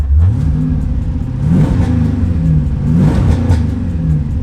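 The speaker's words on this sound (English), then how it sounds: "I want you to hear the exhaust from the inside, see how different the tone's gonna be." Deep V8 exhaust rumble heard from inside a 1969 Chevy Camaro with a twin-turbo LS3 and Magnaflow exhaust, rising and falling through a few revving surges, loud and close.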